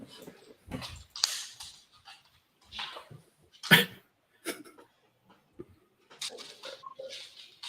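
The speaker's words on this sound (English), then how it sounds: "my dog won't stop barking" A dog gives scattered yips and short barks with some whimpering, separated by quiet gaps, fairly close but not loud.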